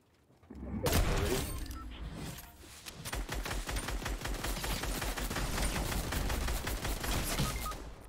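Grenades and gunfire in a shooter game: a heavy blast up front, then a long rapid string of sharp automatic shots rattling steadily, close and loud, with a little talk underneath.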